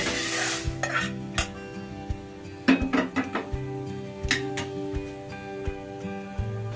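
Lentils being stirred and roasted in coconut oil in a pan for bisi bele bath powder, with repeated close scrapes and clinks of a utensil against the pan over a faint sizzle and no talking.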